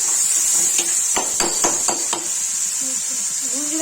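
Tomato with onion, garlic and ginger frying in a pan for a baingan aloo sabzi, giving a steady bright sizzle with a run of sharp spatula clacks partway through.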